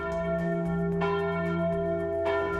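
A church bell at a rural chapel, Capela Santo Antônio in the João Surá community, rings loud and close with long sustained tones, struck a few times and left humming between strikes.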